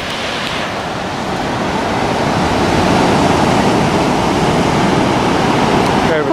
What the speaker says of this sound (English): So there's some decent surf, looks like, today, but nothing too crazy.